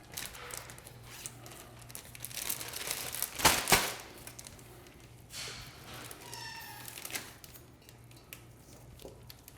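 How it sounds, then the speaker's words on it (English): A large gallon-size Ziploc plastic bag is handled and crinkled in a kitchen, with bursts of loud crackling rustle, the heaviest crunch midway through, over a low steady hum. "Get a big gallon Ziploc."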